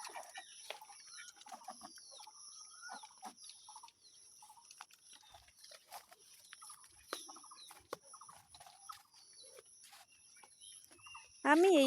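Ducks by a village pond make faint, scattered quacking calls and soft clucks at a distance in a quiet rural morning, ending with a brief louder sound.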